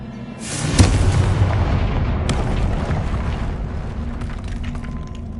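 Confringo explosion spell in the video game Hogwarts Legacy, a loud close blast with a sharp crack and a second hit, then a long rumbling roar that slowly fades, no talking.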